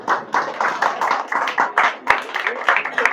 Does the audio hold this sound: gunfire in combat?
no